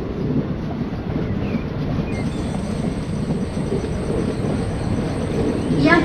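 Dual diesel locomotives running in Train Simulator 2022 on an Indian railway, a continuous low rumbling engine drone with rail noise, joined by a thin steady high tone partway through and a clattering rise at the end.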